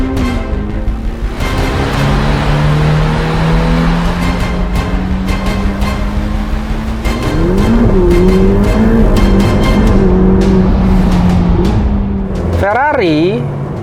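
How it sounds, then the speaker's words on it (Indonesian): Ferrari F8 Spider sports car driving on a road, its engine giving a steady loud drone that climbs in pitch with revving midway and again in a sharp rising burst near the end. "Ferrari F8 Spider ini adalah jawaban dari penggila kecepatan"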